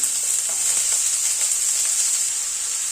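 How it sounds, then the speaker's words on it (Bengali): Steady, bright sizzle of cauliflower and potato frying in hot mustard oil, continuous and close, with faint stirring clicks underneath. "তেলটা গরম হওয়ার পরে ফুলকপি আলুটা দিয়ে দিচ্ছি"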